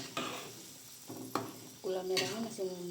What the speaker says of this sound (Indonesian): lalu kita aduk-aduk.